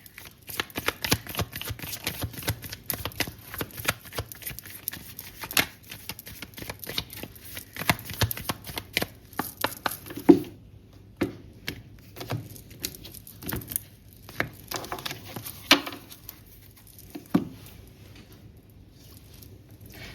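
A deck of tarot cards shuffled by hand, with a steady run of soft riffling and patting bursts, close and fairly quiet, with no voices.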